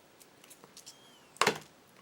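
Scissors snip double-sided foam tape into a round, a few faint soft clicks followed by one sharp close cut, with no talking.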